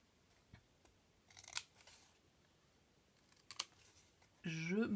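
Scissors snip a paper glue tab for a Harry Potter Hogwarts advent calendar craft, two short quiet cuts heard close up in a still room, then a voice starts talking at the end.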